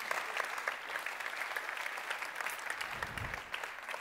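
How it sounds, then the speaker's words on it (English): Audience applause at a Porsche 911 world-premiere launch event, a steady dense patter of many hands clapping throughout, moderately distant in a large hall, with no voices over it. "A bit of a round of applause, please,"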